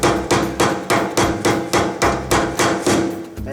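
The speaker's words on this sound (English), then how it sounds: "then you can use your hammer to drive it on in there" A hammer drives a bearing onto a boat trailer hub with nine loud, evenly spaced metallic blows, each ringing briefly before the next strike.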